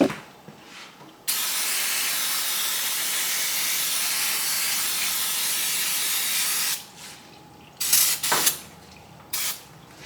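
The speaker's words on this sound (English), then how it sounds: "I usually take some brake cleaner and at this point spray it off." A can of brake cleaner sprays in one long, loud hissing burst of about five seconds, followed by a few shorter spurts with clicks in between, during an oil change on a Harley-Davidson Milwaukee 8 Touring motorcycle.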